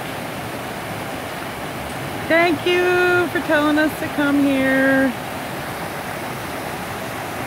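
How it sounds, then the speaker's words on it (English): Roaring Fork creek runs through the Smoky Mountains woods with a steady, close rushing of water that holds the whole time, while a voice speaks briefly over it midway. "This is Roaring Forks Creek."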